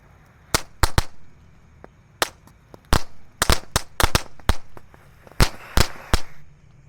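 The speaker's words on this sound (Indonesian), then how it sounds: "Di sini ada mercon Tank Thor bosku. Kita nyalakan." A Tank Thor firecracker goes off on Ramadan takbiran night, bursting into a rapid, irregular string of around fifteen sharp, loud cracks close by, with short gaps between clusters.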